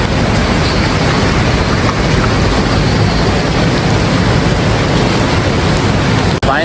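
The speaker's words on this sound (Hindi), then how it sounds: "बालाकोट में इतनी तेज़ बारिश हो रही है।" Heavy, steady rain pours down in Balakot in a dense, unbroken roar that fills the whole clip, with no voices.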